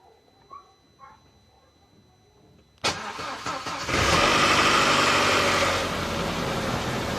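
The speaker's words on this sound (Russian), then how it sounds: "Это гидронатяжитель цепи или цепь бьет" An Audi A4 B5 1.8 engine cold starting with a sharp crank, then a loud rattling from the timing chain tensioner for a few seconds before it settles to a steadier idle; faint knocks precede it.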